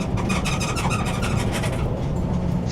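A new hybrid truck accelerates hard, a steady loud broadband road and engine roar that stays level throughout with no voices on top.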